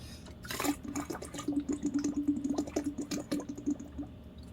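Close-up gulping as someone drinks water, a quick series of rhythmic swallows with liquid sloshing, heard alone with no talking.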